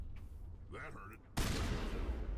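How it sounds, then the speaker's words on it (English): Shotgun loaded with high explosive rounds fires in the Mass Effect game: a sudden loud blast about halfway through, followed by a sustained broadband roar and rumble. Before the blast a voice speaks briefly. "Let's test out the high explosive rounds on the shotgun."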